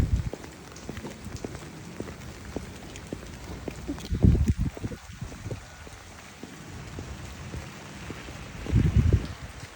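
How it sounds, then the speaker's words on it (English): Heavy rain pouring outdoors during a walk, a steady close patter of drops on surfaces, with a couple of louder rumbling bursts of wind or movement breaking through the wash. "it is pouring outside"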